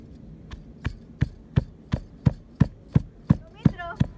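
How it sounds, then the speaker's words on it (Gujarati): Garlic is crushed with about a dozen evenly spaced, sharp pounding thuds in a steady rhythm, close and clear with no talk. "આપણે લસણને વાટી લઈશું."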